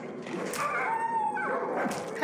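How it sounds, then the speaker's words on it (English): A dog in the horror video game Darkwood gives whimpering, whining yelps close by, with a person talking over it. "It's a dog!"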